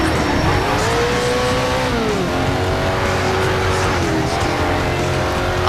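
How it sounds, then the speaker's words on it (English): An Audi race car engine roars in the racing game Need For Speed Shift, loud and continuous, its pitch climbing and dropping as it revs through gears, with some tire noise. "This Audi is pretty nice."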